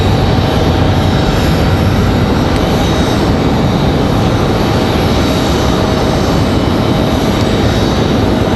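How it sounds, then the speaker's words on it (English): An American Airlines jet departing Raleigh-Durham for Dallas Fort Worth gives off a loud, continuous broadband engine roar that holds steady throughout, with no voices. "American Airlines 1998 headed off to Dallas Fort Worth."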